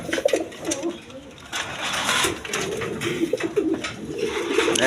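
Racing pigeons, a pair, coo in a low repeated murmur close by, overlapping across the whole stretch against a busy background with other noise.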